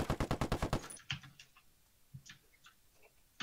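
An AK rifle fires a rapid burst of about nine evenly spaced shots in Ghost Recon Wildlands, then the shots cut off into faint scattered clicks and ticks.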